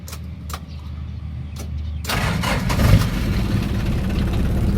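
Hino FC six-wheel dump truck diesel engine cranking over and catching, then settling into a steady, loud idle rumble close by after a short stretch of quieter starter clicks and a door knock.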